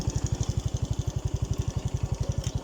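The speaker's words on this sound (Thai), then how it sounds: "ดับเครื่องรถแป๊บนึงครับ" A motorcycle engine idles close by with a steady, rapid low throb of even pulses and no voices, heard outdoors beside a natural pond in the evening.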